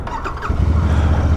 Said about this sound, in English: listen to that there basso profundo exhaust